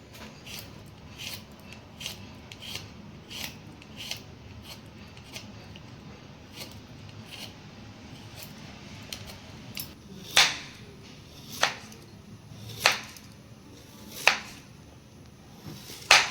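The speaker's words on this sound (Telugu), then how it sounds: "ఇప్పుడైతే మనం పొటాటోలకి తొక్కు తీసేసి మనం బజ్జీకి కావాల్సినట్టుగా కట్ చేసుకుందాం." Peeling and cutting potatoes for bajji in a home kitchen, a steady run of soft scraping strokes that give way to a handful of sharper, louder knife cuts spaced about a second apart, close and without talk.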